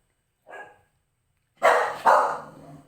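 A neighbor's dog gives a faint distant bark, then two loud close barks in quick succession, followed by a dog's lingering yelp.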